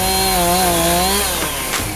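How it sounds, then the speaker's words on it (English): Chainsaws cut down plants and trees during a cleanup by American Legion volunteers. A loud, close engine buzzes steadily, then its pitch sags and it sputters briefly near the end. "We had a bunch of American Legion vets, along with a couple of guys with chainsaws."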